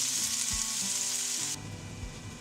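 Loud, dense sizzling of garlic and ginger sautéing in hot oil, steady and close, with a faint low hum underneath; the hiss drops slightly near the end.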